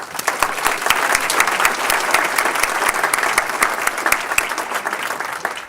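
A conference audience at an awards session of a state water conference gives a warm round of applause, dense and steady clapping from many hands, loud and close, lasting several seconds.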